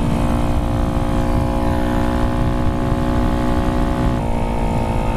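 A motorcycle on a ride to a service shop hums with a loud, steady engine drone at close range, holding an even pitch that shifts down slightly near the end.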